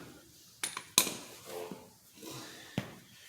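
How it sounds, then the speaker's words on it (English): Metal clinks as an axle nut is pulled from the wheel of a Kawasaki KX 250 motorcycle during a tire change: a few sharp, close taps and clanks with quiet gaps between. "Go ahead and pull that axle nut out"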